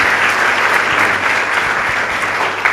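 A crowd applauds the graduates receiving their baccalaureate results, with dense, steady clapping throughout and no speech over it.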